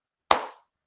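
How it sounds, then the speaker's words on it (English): A single sharp hand clap rings out alone in a quiet room during a comedy podcast, one crisp strike that decays quickly. "That's a slow clap."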